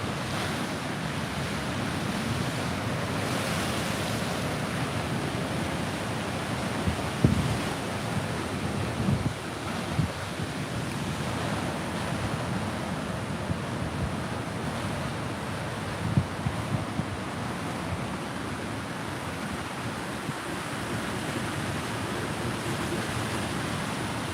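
Ocean surf pounds the Northern California coast under a tsunami advisory with rip tides and abnormal wave heights, a steady, loud roar of breaking waves with wind buffeting the microphone and a few brief thumps.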